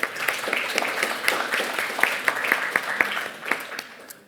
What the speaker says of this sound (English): if everyone could give just a quick round of applause to the signature writers